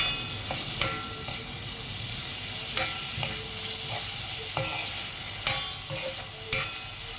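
Brussels sprouts and asparagus are stirred with salt in a hot pan, a steady close sizzle with sharp scrapes and clacks of the utensil every second or so, no voices.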